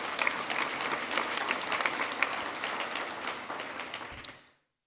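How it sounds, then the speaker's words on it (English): Audience applause at a small business award speech, a steady wash of many hands clapping together for several seconds before cutting off abruptly. "I'd just like to ask for another round of applause for these people"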